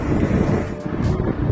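Wind buffets a microphone while cycling uphill on a Finnish road toward Vaasa, a loud, steady broadband rumble with brief dips, no voices.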